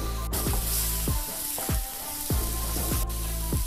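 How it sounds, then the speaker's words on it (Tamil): Coriander sautés in a hot pan for coriander rice, giving a dense, close sizzle. Repeated swooping scrape-like strokes sound every half second or so, and no voices are heard. "கொத்தமல்லியில் உள்ள பச்சை ஸ்மெல் போகிற அளவுக்கு வதங்கட்டும்."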